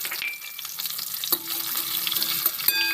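A spoonful of panch phoron and slit green chillies crackle in hot oil for a vegetarian cauliflower-stalk dish, a steady bright sizzle with sharp spattering pops near the middle and end, with no voices.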